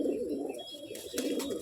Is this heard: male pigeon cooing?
yes